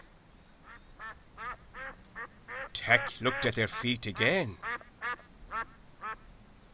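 Cartoon ducks quack in a quick repeated series, loud and close, with a few drawn-out calls in the middle. A narrator speaks briefly over part of it.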